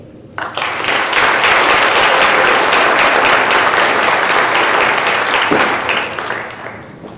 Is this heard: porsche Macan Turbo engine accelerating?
no